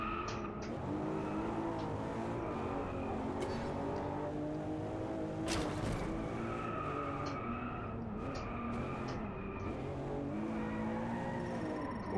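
A racing car in Driveclub VR overtakes a rival, its engine loudly revving and shifting through gears with tire squeal and the roar of another car close by, continuous and dense.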